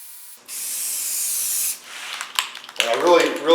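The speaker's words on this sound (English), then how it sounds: "what I use is just a Rust-Oleum crystal clear enamel. I find it to be the best rattle can clear coat." A Rust-Oleum crystal clear enamel rattle can sprays a clear coat onto a wooden American flag, one loud steady hiss of about a second and a half, followed by scraping, rubbing handling noises.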